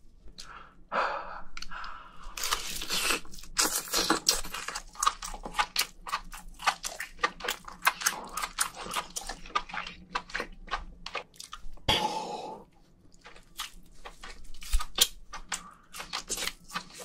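Someone eats a giant lobster up close, with wet tearing, crunching shell and steady chewing running throughout, plus a sharper crack near the middle and a brief breath or sigh.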